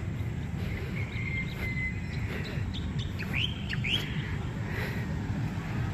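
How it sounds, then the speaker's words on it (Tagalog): Several birds chirping and whistling in short calls over a constant low outdoor rumble, fairly close, with no talking. "Naririnig niyo po ba yun? Mga ibon dito."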